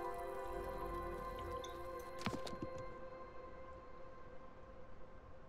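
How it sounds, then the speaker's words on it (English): Soft, light rain patters and drips in the video game The Wandering Village, quiet and continuous beneath faint sustained tonal sounds, with a brief brighter chime in the middle. "We're in the middle of a little light rain. So that's the light rain thing."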